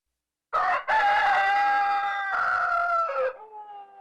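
A rooster on a chicken farm crows loudly and close, one long harmonic cock-a-doodle-doo with a brief break near its start, trailing off into a quieter tail at the end.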